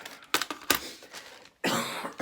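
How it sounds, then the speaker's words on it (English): A person at a crafting table coughs close by: two sharp coughs, then a longer, rougher coughing burst after a short pause. "I was hoping I wouldn't be coughing on you"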